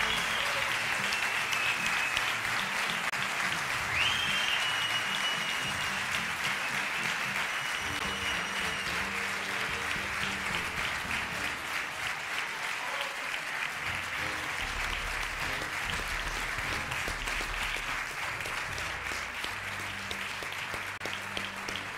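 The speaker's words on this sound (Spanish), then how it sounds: "un fuerte aplauso para ellos" An audience in a village hall applauds students at an award gala, a long, steady, fairly distant round of clapping with occasional faint cheers over a low musical hum.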